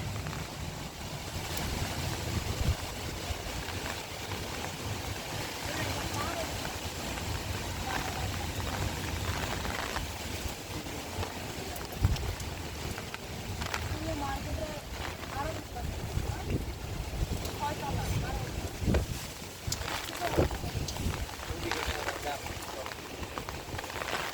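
Stormy wind roars steadily with rushing gusts through swaying coconut trees, mixed with falling rain, and a voice speaks intermittently beneath the noise.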